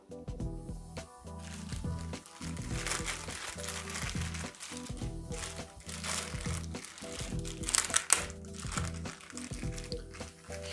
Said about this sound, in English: Carefully remove our plastic.